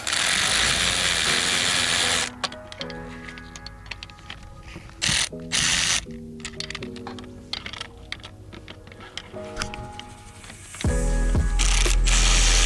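A ratchet clicks as bolts on the high-pressure fuel pump of a 2013-2016 Cadillac ATS 2.5L engine are snugged up, with close, rapid pawl clicking in short bursts between louder broadband stretches of workshop noise.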